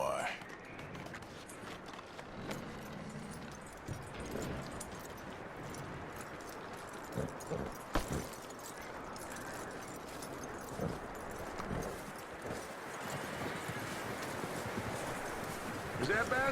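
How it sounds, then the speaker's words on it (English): Horse hooves clip-clop at a walking pace in the video game Red Dead Redemption 2, a faint, steady rhythm under ambient noise while voices talk over it. "That looks like a decent horse."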